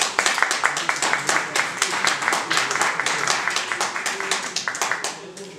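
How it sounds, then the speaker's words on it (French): Audience applause at a press conference launching a music show, many hands clapping in a dense, rhythmic burst that stays loud and steady before tapering slightly near the end. "Sur vos acclamations, s'il vous plaît."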